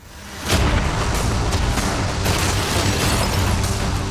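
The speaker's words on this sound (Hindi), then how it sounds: "कैनन्स को तैयार करो। देखते हैं तुम पिछले वाले कैनन्स के हमले से कुछ सीखे हो या फिर नहीं। फायर!" Cannon fire aimed at a yacht in a video game: a sudden heavy boom at about half a second opens into a sustained roaring barrage of blasts and rumble that stays loud and dense to the end, with no talking.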